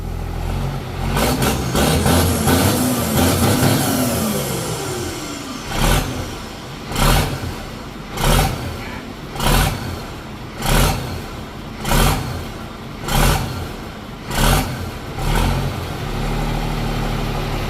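A heavy turbocharged truck engine idles with a rising whine, then barks through a string of loud, evenly spaced revs before settling back to a steady rumble.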